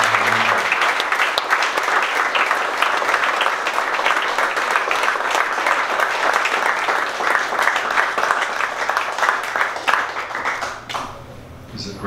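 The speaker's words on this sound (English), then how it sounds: "I think we all deserve a round of applause," An audience at a fundraising event claps steadily and loudly for about ten seconds before the applause thins out, while voices speak underneath.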